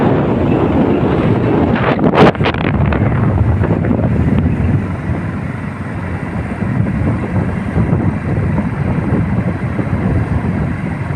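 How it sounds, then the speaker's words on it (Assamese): Wind rushes loudly and continuously against the microphone during a morning motorbike ride near Dolongmukh in Sivasagar, Assam. The roar is broadband and steady, with a brief gusty burst early on. "আৰু বতাহজাক গাত লাগিলেই কিবা"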